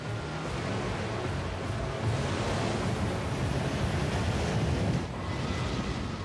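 Ocean waves roar as a continuous, dense wash of surf in an asteroid tsunami documentary, loud and steady with a slight swell near the middle and no speech.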